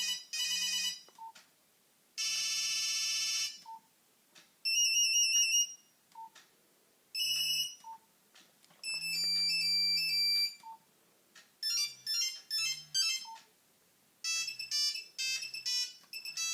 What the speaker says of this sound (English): That's the most loved ringtone on this phone